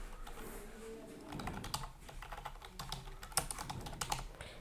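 Rapid, uneven keystrokes on a computer keyboard while text is typed into a WordPress post editor, close and clear with a steady clatter and brief pauses.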